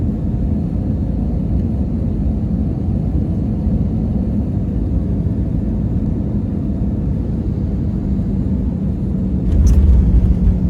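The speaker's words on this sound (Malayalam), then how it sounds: "ഫ്ലൈറ്റ് ആ റൺവേയിലേക്ക് ചാടിയപ്പോഴത്തെ ഒരു സൗണ്ട്" Loud, steady engine rumble fills the cabin, then a brief thump and rise in low roar near the end as the plane touches down on the runway, on a flight from Abu Dhabi.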